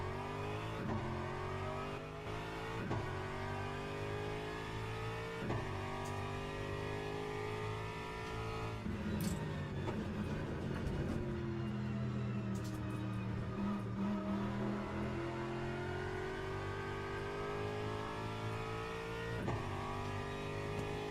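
Race car engines in the Le Mans Ultimate racing game drone and rise steadily through gear changes, a close, continuous high-pitched roar with shifting pitch as the car follows a McLaren through a daily race.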